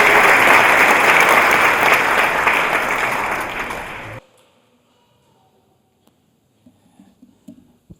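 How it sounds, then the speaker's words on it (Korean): Congregation applauding in thanks during a Korean church worship service, a dense, loud wash of clapping for about four seconds that cuts off abruptly into near silence with a few faint knocks and shuffles. "우리의 기쁨 되시는 하나님과 참부모님께 감사의 박수 올리겠습니다."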